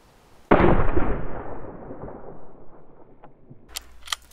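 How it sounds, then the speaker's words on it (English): A single gunshot rings out in a DayZ match, a sharp loud crack with a long echoing tail that fades over a few seconds, followed by faint clicks and small noises. "Shot fired, shot fired."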